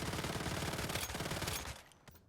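Little Jaws weapon in the game Once Human firing a rapid sustained burst that sets off a string of explosions, dense loud rattling gunfire that cuts off and fades near the end.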